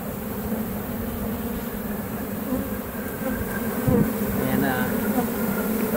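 Dense honeybee buzzing at a hive inside a mobile home in Lakeland, Florida, a steady droning hum of many insects fanning, continuous and fairly loud throughout with no talk over it.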